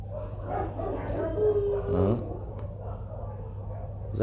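A white Bắc Hà village dog gives a short whimpering yip or bark, faint and close, with someone talking in the background.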